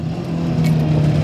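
Supercharged BMW E30 318is restomod engine holding a steady, loud drone with a slight rise in revs, heard from inside the car with no talking.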